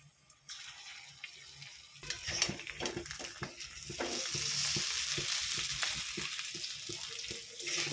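Lentil fritters (bora) fry in hot oil with a steady sizzle that swells after a quiet start, alongside occasional clinks of a utensil stirring in the pan.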